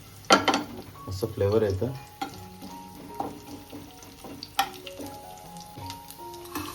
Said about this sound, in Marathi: चला आता आपण तेलामध्ये कढीपत्ता ॲड करू आणि लसूण ठेचलेला फ्लेवरसाठी